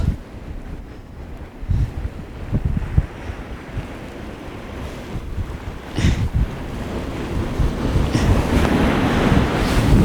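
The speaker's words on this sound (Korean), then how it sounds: "파도가 아주 끊임없이 몰려드네요." Steady ocean surf rolls and crashes continuously on a beach in light drizzle, with gusts of wind buffeting the microphone and a few louder wave surges toward the end.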